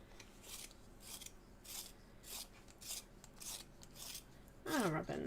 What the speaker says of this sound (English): I'm going to sharpen it again.